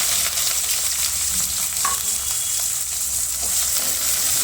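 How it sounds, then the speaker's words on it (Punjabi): Cumin and onions frying in hot oil in a pan while an Indian vegetable dish is cooked, giving a steady close hiss and sizzle with faint stirring scrapes and no talking. "ਤੇਲ ਗਰਮ ਹੋ ਗਿਆ ਇਹਦੇ ਵਿੱਚ ਜੀਰੇ ਨੂੰ ਪਾ ਦਵਾਂਗੇ ਪਿਆਜ਼ ਪਾ ਦਾਂਗੇ"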